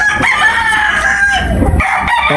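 Free-range chickens behind a house cluck and crow nearby, a rooster's call rising over soft hen clucking, fairly loud and close with no voices.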